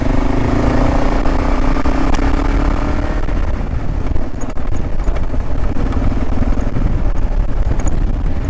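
A KLR dual-sport motorcycle rides past on a rough mountain trail, its engine a loud, continuous rumble close to the microphone, mixed with heavy wind and gravel noise and no talking.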